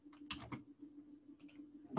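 Quiet clicks of keys tapped on a computer keyboard, arriving as two short clusters of strokes with a pause between them, close up and soft against a low steady hum.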